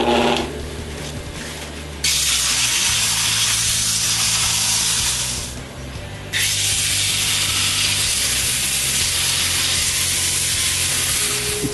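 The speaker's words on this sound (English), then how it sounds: "I replace the snowman and sand it." A wooden snowman spinning on a lathe is sanded, giving a steady, loud broadband hiss and whir that dips briefly partway through, then resumes at full strength.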